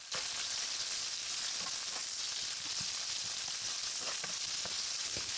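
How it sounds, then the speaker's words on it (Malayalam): Cinnamon, cardamom, cloves and onion fry in hot sunflower oil, giving a constant close sizzle with scattered small pops and occasional faint stirring, no talk over it. "ഇനി ചൂടായി വന്ന പാനിലേക്ക് മൂന്ന് ടേബിൾ സ്പൂൺ സൺഫ്ലവർ ഓയിൽ ഒഴിച്ച് പട്ട ഏലയ്ക്ക ഗ്രാമ്പൂ സവാള എന്നിവയിട്ട് വഴറ്റിയെടുക്കാം"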